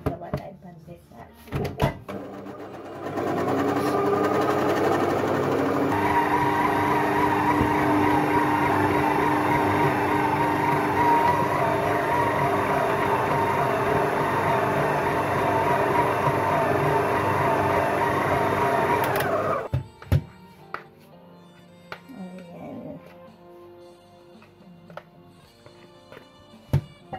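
A dough mixer machine kneads pandesal bread dough made with flour, sugar and yeast, a steady loud mechanical churn running for about sixteen seconds before stopping abruptly, followed by quieter handling clatter.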